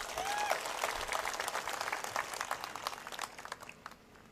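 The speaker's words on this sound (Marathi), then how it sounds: "एकदा जोरदार टाळ्या वाजवा त्यासाठी." Crowd applause at a municipal council election campaign rally in Akluj, a dense, steady wash of clapping that holds loud and then thins slightly toward the end, with no voices over it.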